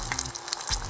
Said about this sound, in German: Öl ist ready. Nun kommen meine Gemüsesticks hier rein.